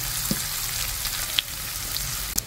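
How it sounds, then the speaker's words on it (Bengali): Chopped onions and garlic fry in hot oil in a pan, a constant close sizzle with occasional sharp pops and clinks of stirring, no talking. "এ পর্যায়ে দিয়ে দিচ্ছি পেঁয়াজ কুচি। পেঁয়াজগুলোকেও ভেজে নেব।"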